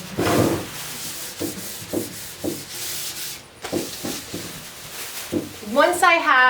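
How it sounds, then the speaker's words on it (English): Hand sanding of a wooden furniture surface with fine 400-grit sandpaper gives rhythmic rubbing strokes, about a dozen back-and-forth passes, close and fairly soft, ending in a brief zipper-like rasp. "only using these finer grit sandpapers. I'm gonna start out using the 400 and just really smooth out the surface so it's rid of any bumps."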